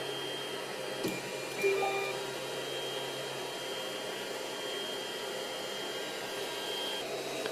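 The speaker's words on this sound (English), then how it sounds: "So now let's move some motors and see how it goes from there." 3D printer stepper motors moving while printing PLA: a quiet, steady whirring hiss with faint whining tones, plus a couple of small clicks near the start.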